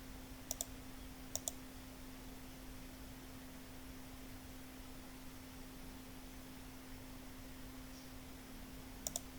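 Sharp computer mouse clicks from a right click, heard as quick close pairs near the start, again just after one second and at the very end, faint over a steady electrical hum and hiss.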